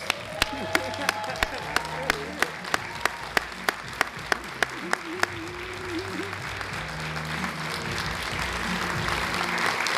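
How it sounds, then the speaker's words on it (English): Audience at a teacher-of-the-year semifinalist announcement ceremony gives quarterfinalists a round of applause, with steady clapping and a few loud individual claps ringing out over talk and murmuring throughout. "we give them a great big round of applause"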